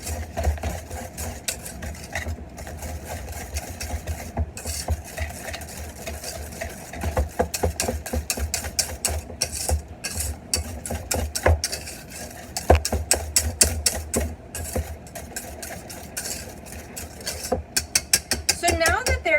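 Egg whites and granulated sugar are whisked together in a bowl for Swiss meringue, producing a continuous rapid clatter of the whisk against the bowl with uneven bursts over roughly twenty seconds.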